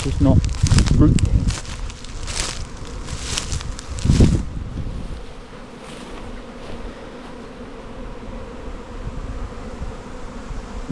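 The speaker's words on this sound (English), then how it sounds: "there are lots of bees coming in still" Bees buzzing close by while flying in at a beehive during a swarm, with loud droning passes in the first few seconds, then a fainter, continuous hum under wind and rustling.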